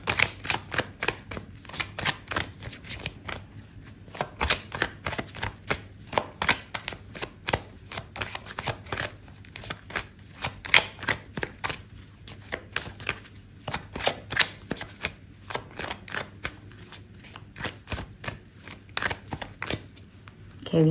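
Tarot cards being shuffled and pulled from the deck during a love reading, a steady run of close, crisp riffling and slapping card sounds over about twenty seconds, with brief soft speech at moments.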